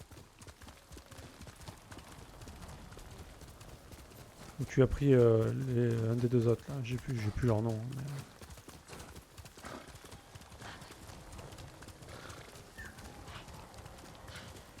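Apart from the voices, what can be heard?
horse hooves clip-clopping in a video game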